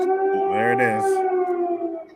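A wailing siren holds a steady tone with layered harmonics, loud and close, while a voice briefly speaks over it before it fades slightly at the end.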